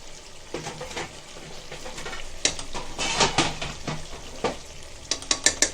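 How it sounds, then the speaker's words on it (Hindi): Mutton sizzles and fries with ground dry masala in a pan while a spoon stirs and scrapes it, close and moderately loud, with repeated clinks of metal on the pan. "वो अंदर मसाला डाल के अच्छे से भुनेंगे"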